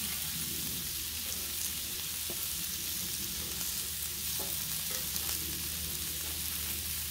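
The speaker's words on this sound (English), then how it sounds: "Let's see if we can flip our pierogis." Pierogis and carrots fry on a Blackstone griddle with a steady, soft sizzle, and a few light scrapes and taps of a spatula flipping them.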